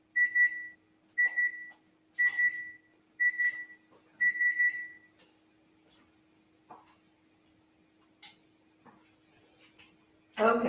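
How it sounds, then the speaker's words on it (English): Kitchen timer beeping while potatoes cook: five short bursts of shrill electronic beeps over the first five seconds, loud and close, then quiet with a few faint kitchen clatters and a thump at the end. "My timer's going off. I want to check the potatoes."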